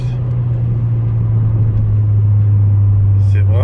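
A Peugeot 208 GTi idles with a steady low engine drone, a loud, close, continuous rumble with a brief higher burst near the end and no clear revving climb.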